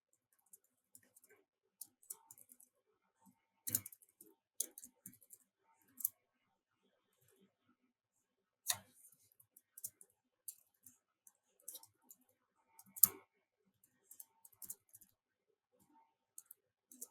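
Scattered clicks and short bursts of keys on a computer keyboard while a MySQL insert statement is entered, quiet and close, in irregular clusters separated by pauses.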